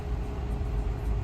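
Steady low rumble of a car's engine and cabin as it creeps forward at a highway toll plaza, continuous and fairly quiet with no voices.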